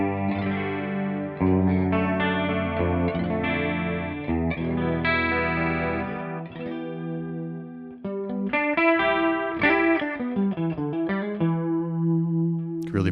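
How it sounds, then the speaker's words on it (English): Electric guitar played through ToneX modulation and distortion effects on a Bad Cat Cub amp tone, sustained chords and ringing notes with a shimmering chorus wash, loud and close with brief pauses between phrases. "we could add some of these beautiful new effects that we've received in one of the recent ToneX updates"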